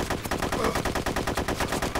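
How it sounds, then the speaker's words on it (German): Sustained automatic gunfire in the video game ArmA 2 Wasteland, a rapid, even burst of repeated shots running the whole time, fairly loud with no talk. "Oh, wir werden beschossen"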